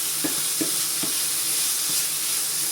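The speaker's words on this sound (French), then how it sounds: "Je vais mélanger un petit peu. Ça accroche un peu là." Chicken curry with coconut milk stirred in a pan, a constant bright sizzle with a few soft scraping strokes of the spoon against the bottom, close and without talk.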